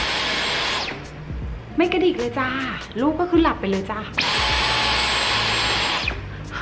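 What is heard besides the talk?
Dyson cordless vacuum cleaner running quietly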